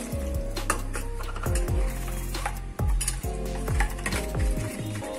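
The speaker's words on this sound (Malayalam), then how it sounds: "ഇനി ഇതെല്ലാം കൂടെ നമ്മൾ മിക്സ് ചെയ്തെടുക്കുക ചെയ്യുന്നത്" A spoon stirs a ginger curry mix of spice powder, ginger and water in a metal pan, scraping and clinking steadily in close, busy strokes with no talking.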